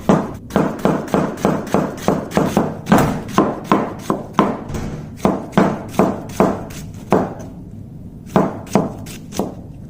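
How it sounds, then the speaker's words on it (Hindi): A knife finely chopping cabbage on a board for street-style veg chowmein: steady, rapid thuds in an even rhythm, close and crisp, with a brief pause before the chopping resumes, no talk. "तो पत्ता गोभी को भी आपने क्या करना है फ्रेंड, ऐसे ही बारीक फाइन काट लेना है।"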